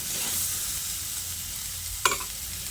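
Pumpkin and potato pieces fry in a pan with turmeric and chili powder, giving a steady soft sizzle throughout with a sharp stirring scrape near the end; no one speaks.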